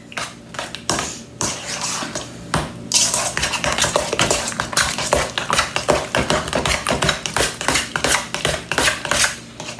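Spoon scraping and clinking against a bowl or pot as sour cream is stirred into food, a steady run of close, sharp metallic knocks and scrapes continuing throughout.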